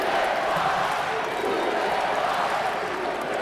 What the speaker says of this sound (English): Crowd trying to get Volker pumped up here.